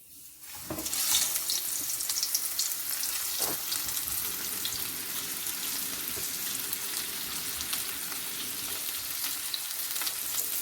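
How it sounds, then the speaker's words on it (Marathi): Pomfret fish fried in oil, with a loud, close sizzle that starts sharply a moment in and then holds as a dense, steady crackle to the end. "आता मी याला तेलामध्ये फ्राय करायला ॲड करतो."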